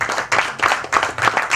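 An audience claps and applauds at the stage trailer launch of the film Teri Bhabhi Hai Pagle, a dense burst of clapping that swells in waves for a moment with no talk.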